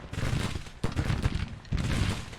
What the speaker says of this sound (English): Okay, these cannons are firing now.